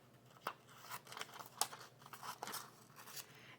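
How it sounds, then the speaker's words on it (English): Snips cut out a stamped paper flower, making a quiet series of sharp, crisp snipping clicks spaced irregularly, close and alone with no talking. "with my snips, I'm just going to cut that out"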